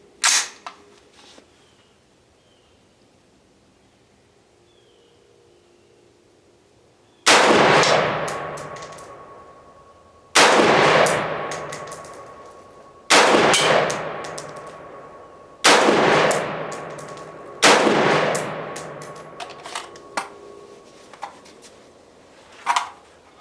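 A Radical Firearms RF-15 rifle firing 55-grain ammunition at an outdoor range: five loud, sharp shots spaced about three seconds apart, each with a ringing tail, after one faint distant shot at the start.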